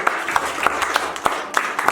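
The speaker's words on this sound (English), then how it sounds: "Can you give yourself a round of applause?" Children in a Southern Kaduna, Nigeria classroom applauding themselves, a brisk, uneven patter of individual claps from a small group, close and moderately loud.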